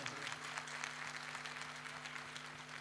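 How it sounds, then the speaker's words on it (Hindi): Faint, even clapping from an audience at an outdoor Bhojpuri music stage show carries on continuously over a low steady hum. "ये तालियां एकदम स्वर में बज रही"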